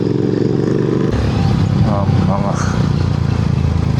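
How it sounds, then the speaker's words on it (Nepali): Three motorcycle engines drone loudly with a rough exhaust note and slight revving in Phobjikha Valley, while people talk nearby over the noise. "तिनवटा बाइकको एक्जस्ट त कडा सुन्दैछ"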